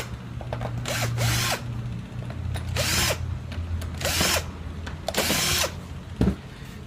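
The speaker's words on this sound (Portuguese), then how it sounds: "Deixa eu pegar a parafusadeira aqui para mostrar." Cordless power screwdriver backing screws out of a power drill's casing in repeated short whirring bursts, about five of them with pauses and small clicks of handling between, close and clear.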